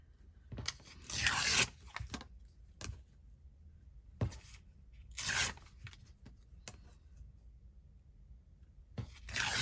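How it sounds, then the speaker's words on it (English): Paper ephemera torn by hand during a crafting session, several separate bursts of close, crisp ripping at uneven intervals with quiet pauses between. "I think I might even tear it."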